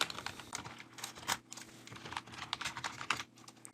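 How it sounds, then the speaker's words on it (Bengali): Fast, uneven clatter of keys on a computer keyboard as HTML code is typed, close and fairly quiet, with short pauses between bursts and no talking. "HTML ফাইলে যে কোডগুলো লিখতে হয় সেগুলো লিখি।"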